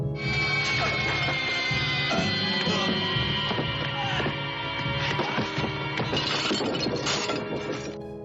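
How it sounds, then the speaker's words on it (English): A figurine topples down a staircase and shatters, a dense, loud run of breaking glass-like crashes and clinks that continues for several seconds over a sustained background. "The bird knocks the figurine over and Jeff shatters in a fall down the stairs."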